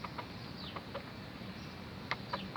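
Chickens on a farm with date trees give soft scattered clucks and brief calls, faint and distant over a steady outdoor hiss, with no talking.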